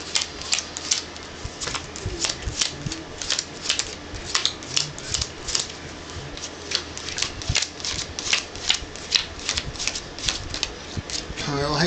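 Playing cards being dealt into piles on a table, a rapid series of crisp, close flicks and snaps in an uneven rhythm, with someone talking over them throughout.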